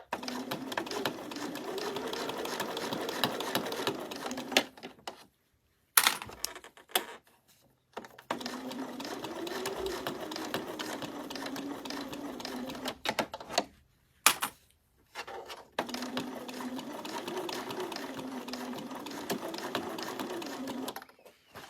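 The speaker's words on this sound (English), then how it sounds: "There's a definite time for fast sewing and there's a time for slow sewing" A sewing machine stitches curves on a unicorn-pattern fabric bag, running in steady, loud bursts of several seconds, broken by short pauses and stop-start spurts as the fabric is turned.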